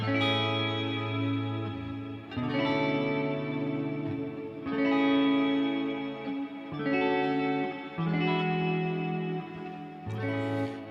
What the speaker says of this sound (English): You can hear the shimmer effect on the reverb